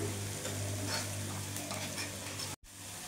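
Sarputi fish curry with mustard-poppy paste, turmeric and Kashmiri chilli powder sizzles steadily in a pan while being stirred, a constant close frying hiss that cuts out briefly near the end, with no speech.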